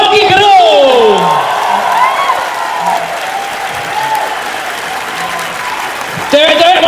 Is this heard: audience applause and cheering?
yes